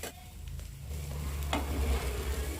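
Masala sizzling and being stirred in a pan with chilli powder and garam masala for a pizza dosa topping, a steady close frying hiss with a scrape of stirring partway through.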